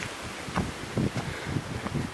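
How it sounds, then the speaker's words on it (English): Wind blows outdoors around a cottage, a broad soft rush with gusty swells and rustling, buffeting the microphone in short bursts. "And listen to that wind."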